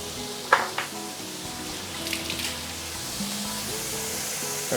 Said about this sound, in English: Let's give it a bit of vegetable oil. We're going to saute the garlic and ginger.